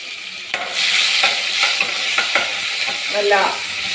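Tomatoes sautéing with cumin and dried red chillies in a pan, a bright continuous sizzle with repeated scraping stirs and clinks of a spoon, close and fairly loud.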